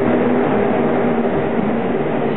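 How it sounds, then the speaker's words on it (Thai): A passenger train pulls into a German railway station with a steady, loud rumbling roar of wheels and carriages, continuous and close throughout with no voices. "วันนี้เป็น เวลา ที่รถไฟมา ก็มานะรถไฟผมนะมาช้าได้10นาทีนะ"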